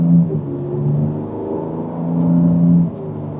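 A 2025 Ford Ranger Raptor's twin-turbo engine rumbles and rises in pitch as the pickup accelerates in normal drive mode, a steady low drone swelling then easing off.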